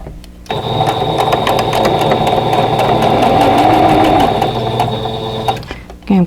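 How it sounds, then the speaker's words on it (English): A sewing machine stitching pinned quilt block seams, a loud, close, steady mechanical whir running continuously for several seconds before stopping. "I'm going to go ahead and pin that and then sew that"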